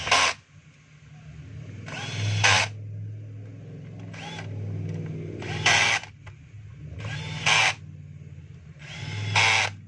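A power drill drives a screw back into a DeWalt DWP849X car polisher, with several short whirring bursts separated by pauses and close clicking handling noises in between.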